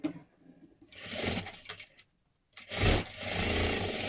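Sewing machine double-stitching a seam on a katori blouse, running in two close, steady whirring bursts separated by a short pause.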